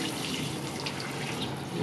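Water runs steadily and evenly from a Moen Brecklyn kitchen faucet into the sink at low flow, a continuous close splashing hiss with no talk.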